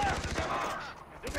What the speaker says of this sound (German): von links schießt er wieder auf mich